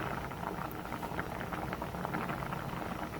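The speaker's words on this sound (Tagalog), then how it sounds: "Ilipin yung kaserola na kumukulo na" Water bubbles at a rolling boil in a pot of cooking macaroni, a dense steady hiss and patter that continues evenly throughout.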